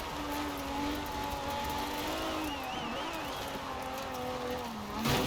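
Drift car engine in the racing game Forza Horizon 4, droning steadily with rising and falling pitch as it revs, tyres squealing near the end.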